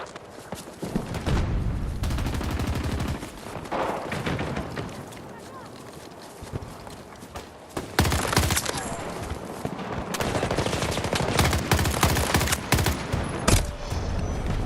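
Battlefield gunfire rattles in dense bursts of automatic rifle shots with heavy booms, loud and close, broken by brief lulls before the firing picks up again.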